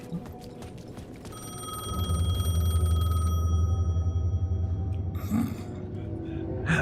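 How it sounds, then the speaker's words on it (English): A telephone rings inside the Alan Wake video game, a steady electronic tone over a low droning hum that cuts off partway through, followed by brief rustling sounds. "Let's answer the phone then"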